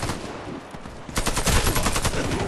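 Rapid bursts of gunfire in the video game Warface crackle through the second half, a dense volley following a quieter stretch of scattered shots.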